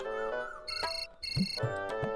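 A phone ringtone plays a bright electronic melody of repeating tones, loud and close, with no voices.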